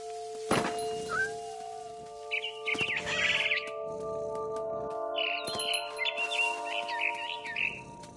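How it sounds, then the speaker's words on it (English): A barn swallow chirps in a video game, giving several short bursts of high twittering over sustained game music tones, with a sharp knock near the start. "Then I heard chirping outside my window. It was a barn swallow going back to her nest."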